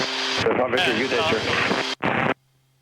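A helicopter flying backwards in flight gives a steady, close cabin drone of engine and rotor under continuous talk, which cuts out abruptly near the end.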